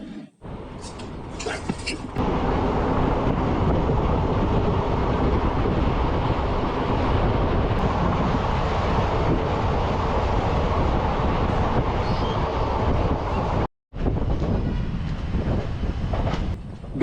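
A Kurnool to Guntur express train runs steadily with a loud, continuous rumble and rattle of the coaches, broken by one brief dropout near the end, and faint voices mixed in.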